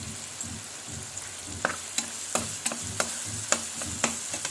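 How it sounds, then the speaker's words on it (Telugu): Onions fry in a pan for a chicken fry, giving a steady sizzle broken by repeated sharp scrapes and taps of stirring, close and fairly quiet, with no talking. "ఇప్పుడు మంచిగా ఆనియన్స్ ఇట్లా వేగిపోయినాయి చూడండి."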